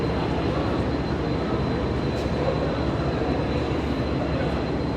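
The Shalimar Express pulls out of Faisalabad railway station with a steady, loud rumbling roar of wheels and coaches, continuous and close, with no clear voices.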